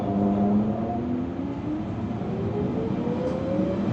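A London Underground Central Line train heading to Hainault via Newbury Park rumbles loudly from inside the carriage, with steady track roar and rising and falling motor whines.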